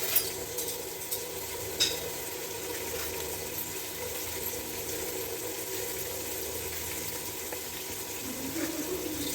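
Chillies being rinsed under a running kitchen tap, a steady wash of flowing water with a few soft handling knocks at the start, close and continuous with no talk.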